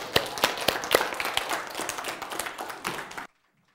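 A lecture-hall audience at a Bible-and-science talk applauds to welcome the lecturer: dense, steady clapping from many hands that runs for about three seconds, then stops abruptly into silence.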